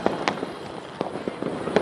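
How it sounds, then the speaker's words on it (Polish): Fireworks burst around a temple in India during a festival, a string of sharp cracks and pops at irregular intervals. Some are louder and some more distant, over a low background murmur. "Teraz fajerwerki dookoła, jeszcze ciągle"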